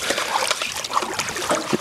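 Cold water splashes and trickles over a JensenGrill grill during cleaning outdoors, close and fairly loud, with irregular splatters and dribbles and soft knocks.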